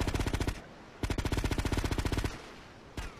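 Uzi and SMG automatic fire in GTA: The Sindacco Chronicles, rapid bursts of loud close shots, a short burst, a longer sustained volley, then a single final shot.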